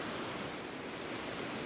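Living water flowing and tumbling down cascades outdoors, a steady broadband rush with no distinct breaks, continuous and fairly close throughout.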